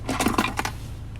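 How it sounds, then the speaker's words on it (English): Two car key fobs and two canopy keys for a 2017 Nissan Navara 2.3 DCI Tekna pickup handled up close, giving a short burst of light metallic clinks and rattles over about a second, with no talking. "2 key fobs, and also 2 keys for your canopy."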